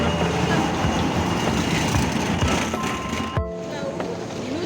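A Paris metro train rumbles and clatters along an elevated track near Gare de Lyon, loud and close, with rhythmic wheel clicks and a brief squeal from the rails.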